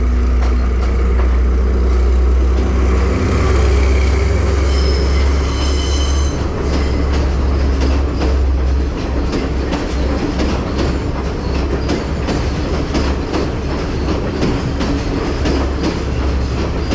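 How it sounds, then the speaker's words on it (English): A train rumbles loudly past at close range on the railway between Haputale and Diyatalawa, Sri Lanka, wheels clattering in a steady rapid rhythm with brief squeals early on, filling the whole stretch. "I think the train must be very nearby."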